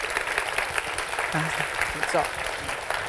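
An audience at a book festival opening talk applauds to thank the speakers, steady clapping filling the room while a voice speaks briefly over it.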